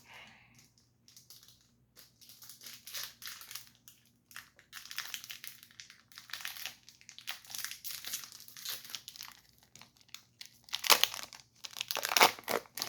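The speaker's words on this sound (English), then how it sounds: "we're gonna go ahead and open this pack up" Crinkly plastic of a One Piece card game booster pack wrapper being torn open and handled, irregular close bursts of rustling and crackling with short gaps, growing louder toward the end, no voices.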